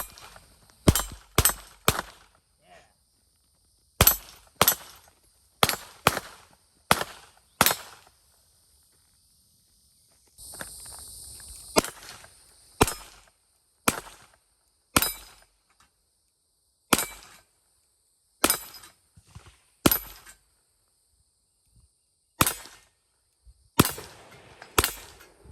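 Ruger GP100 .22 LR revolver fired outdoors at steel targets: sharp, close cracks in quick pairs and irregular runs, with pauses between strings and a brief stretch of hiss partway through.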